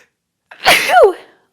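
A single sharp human sneeze during a Pilates class, starting with a quick intake and bursting loud and close, then trailing off into silence, with no talk around it.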